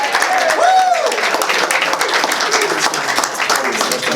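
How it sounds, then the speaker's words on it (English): A press conference room of people breaks into a round of applause for a Hall of Fame honoree, dense steady clapping close by with a voice speaking over the start. "Let's give a round of applause to Claude for Georgia Sports Hall of Fame."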